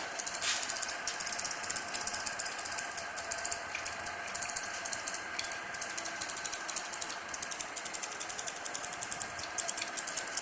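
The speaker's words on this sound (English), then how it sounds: "the motor is running anti-clockwise" An induction motor runs anti-clockwise, giving a fast, even, clicking rattle that repeats steadily over a faint background hum, close and moderately loud.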